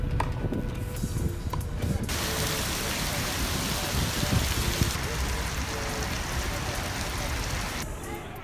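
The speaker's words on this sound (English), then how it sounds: "Wow, this is like a tropical storm. It's not meant to rain in this part of the world." Heavy rain pours like a tropical storm in Doha, Qatar, a dense, steady hiss of water that swells noticeably louder partway through, then eases back near the end.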